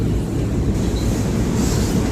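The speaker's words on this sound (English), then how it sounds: "that M7 that's coming off the Huntington line is probably the Penn train" An M7 commuter train, a full 12-car set, rumbles past close by at Hicksville station, its heavy low roar steady throughout with a faint wheel squeal and hiss riding on top.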